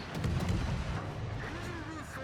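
Warship guns fire in the naval video game battle featuring Harekaze, Izumo and Z-23, a few booming shots and distant impacts with whistling shell sounds, heard under a commentator's voice.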